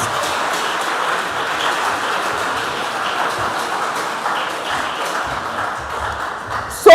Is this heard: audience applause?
yes